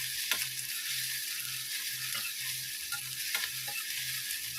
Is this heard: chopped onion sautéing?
yes